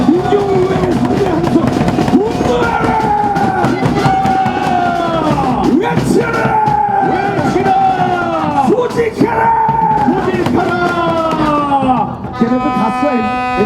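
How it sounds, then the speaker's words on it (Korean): A crowd at an outdoor political rally launching a campaign against alleged election fraud shouts and cheers in loud, sustained waves of yelling for over twelve seconds, with the roar dipping briefly near the end. "함성 외치고 시작합니다"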